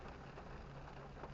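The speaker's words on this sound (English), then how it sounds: "It's been raining for about an hour now" Steady rain falling while driving along a big city street by day, a continuous even hiss with no distinct pauses or voices.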